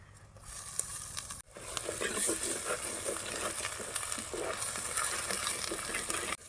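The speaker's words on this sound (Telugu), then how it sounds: "ఈ అల్లం వెల్లుల్లి పేస్ట్ పచ్చివాసన పోయేదాకా వేయించుకోవాలి" Ginger garlic paste and tomato fry in a pan with a steady, close sizzle, briefly cut off near the start and then resuming, with occasional stirring scrapes.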